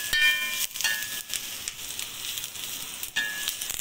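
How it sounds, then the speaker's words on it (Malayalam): Tomato, crushed ginger, chopped chilli and curry leaves sizzle loudly in a hot pan as a masala is sautéed, a steady close frying hiss broken by brief stirring scrapes. "ഇനി നമ്മൾ നന്നായി വഴറ്റിയെടുക്കുക"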